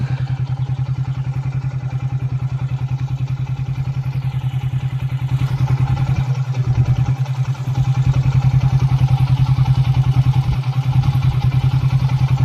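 Motorcycle engine labouring steadily uphill in a single gear on a hill road at Male Mahadeshwara Hills, a continuous loud low drone with brief dips, close by and with no talk over it.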